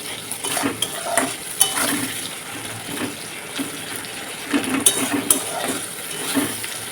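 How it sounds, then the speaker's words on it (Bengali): Onions with salt frying in a pan, a steady close sizzle with intermittent scraping stir strokes throughout, no voices. "পেঁয়াজটা লাল লাল করে ভাজা হোক এরকম পর্যায়ে"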